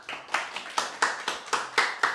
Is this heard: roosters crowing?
no